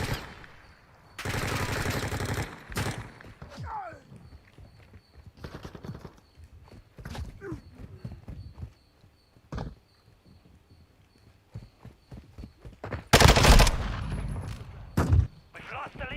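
Bursts of gunfire in Call of Duty Modern Warfare II, with a loud volley early and a heavier burst near the end, mixed with scattered impacts and game noise while someone talks between shots.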